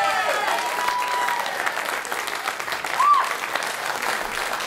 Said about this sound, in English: Tony Tidy, give him a round of applause.